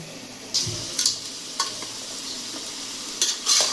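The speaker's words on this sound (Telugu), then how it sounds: "ఉప్పు మళ్ళీ పసుపు వేసుకున్నాక చికెన్కి బాగా మిక్స్ చేసుకొని బాగా మగ్గాలన్నమాట చికెన్." Chicken pieces with salt and turmeric sizzle in a pan over medium to high flame, with several scraping stirs and clinks of the spoon over the frying hiss.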